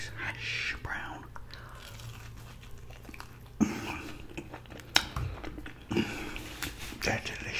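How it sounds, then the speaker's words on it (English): Close, crisp biting and chewing of a hash brown eaten alongside a breakfast muffin, with soft crunches and moist mouth sounds over a low steady hum. "Let's have another little bite of this hash brown."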